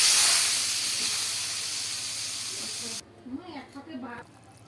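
A loud rushing hiss of water poured into a hot frying pan of fried vegetables for a fish curry broth, steam sizzling strongly and slowly fading, then cutting off as a voice speaks.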